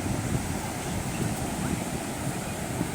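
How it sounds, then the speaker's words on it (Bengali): Sea waves at high tide on Inani beach, Cox's Bazar, give a steady broad roar mixed with wind rumble, continuous and fairly loud with no clear individual breakers. "সমুদ্রের গর্জন দেখেন যে এখন জোয়ার রনিং হচ্ছে"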